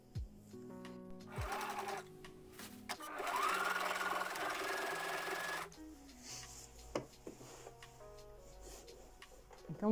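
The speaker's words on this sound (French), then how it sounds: "je vais coudre l'ourlet." A sewing machine stitches a hem on recycled denim in bursts: short starts, then a sustained fast mechanical whir of several seconds that stops before quieter handling sounds, fairly close and moderately loud.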